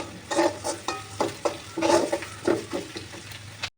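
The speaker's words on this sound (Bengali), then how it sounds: "পেঁয়াজগুলোকে লাল লাল করে ভেজে নেবেন" Chopped onions frying with garlic, cinnamon, cardamom and green chilli for a fish-head mung dal, loud close sizzling swelling with each spatula stir and scrape in an uneven rhythm, no speech.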